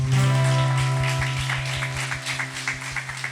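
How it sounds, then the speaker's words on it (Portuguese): A church congregation claps during a Sunday service, rhythmic applause over a sustained organ or keyboard chord, moderately loud and gradually settling. "Vamos aplaudir a ele merece."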